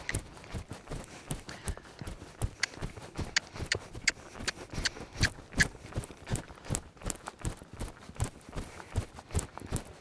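Steady clip-clop of a horse's hooves on soft arena ground, a quick even rhythm of footfalls, close and fairly faint.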